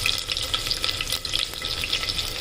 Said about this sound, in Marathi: आता मोहरी टाकूया। मोहरी तळली की आपण कांदा टाकूया।